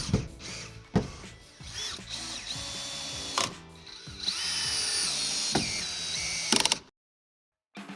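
A power drill drives screws through a Delta Classic 500 shower wall side panel into the framing, with several short whirring bursts and a longer steady run, close up, ending abruptly.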